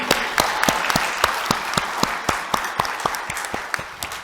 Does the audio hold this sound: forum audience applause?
yes